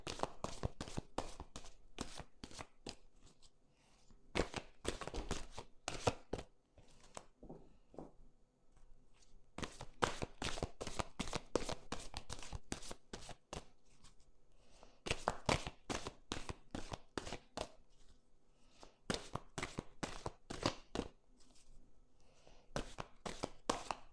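Oracle cards are shuffled over and over for a reading, making a dense run of quick, close, crisp flicking and slapping bursts in uneven clusters with short pauses between them.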